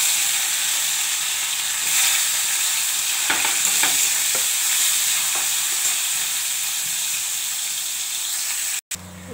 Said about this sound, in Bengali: উচ্ছে ভাজছি